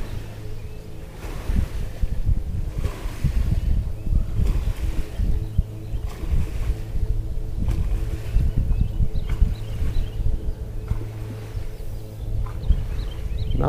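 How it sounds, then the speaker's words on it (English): Small lake waves lap and splash against shoreline rocks in a continuous irregular wash, with a low rumble and some wind in the background. "Love the sound of waves. And there's rocks down here and it's hitting on the shoreline rocks"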